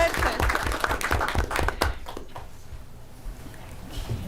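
An audience at a school district board meeting gives a short round of applause, clapping strongest at first and then thinning out, with a voice speaking over it.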